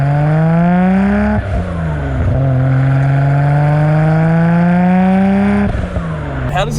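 Loud twin-turbo straight-six exhaust on a Nissan R32 GT-R with an aftermarket downpipe, droning steadily close by with rising harmonics, dipping briefly around two seconds and near the end as the revs shift.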